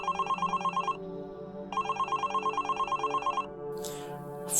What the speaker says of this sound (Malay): Fon aku berbunyi.